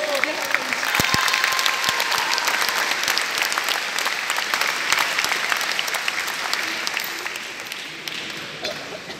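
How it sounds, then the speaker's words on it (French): An audience at a Palestinian solidarity exhibition event in Vitry-sur-Seine bursts into sustained applause, dense clapping holding steady and fading slightly near the end. "on peut s'applaudir s'il vous plaît."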